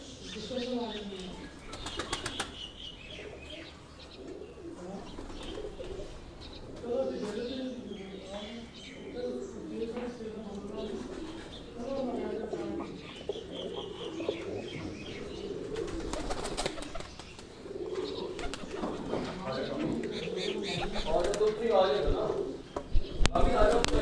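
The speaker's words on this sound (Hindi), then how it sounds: "सलारा कबूतर है जी" Salara pigeons coo softly and repeatedly throughout, with occasional wing flutters, while people talk over the birds nearby.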